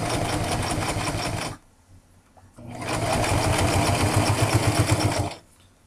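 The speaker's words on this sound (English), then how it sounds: "And you're going to find the corner of your bottom strap. And you're going to sew along that." A sewing machine stitches a homemade guitar strap, running in two loud steady bursts of rapid humming stitches separated by a short near-silent pause, close and alone.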